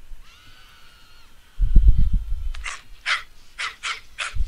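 Barking dog in the video game Postal 2, a series of about six sharp, fairly loud barks in quick succession following a low rumbling thump, with no talk.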